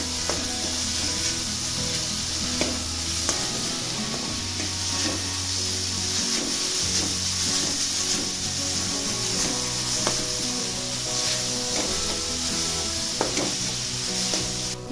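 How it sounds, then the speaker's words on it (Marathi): Grated raw mango stir-fried in hot ghee over a high flame gives a continuous sizzle with stirring scrapes, heard alongside steady background music. "आता तूप गरम झालेलं आहे त्यामध्ये आता आंबा घालायचा आहे किसलेला आणि परतून घ्यायचा"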